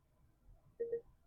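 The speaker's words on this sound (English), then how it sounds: "You can hear the parking sensors going off." A single short electronic beep from a Rivian R1T's parking sensors sounds once, fairly quiet against a low background hum.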